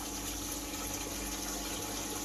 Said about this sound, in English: I've just turned the main waterfall off at the moment, but the main circulation pump is still going.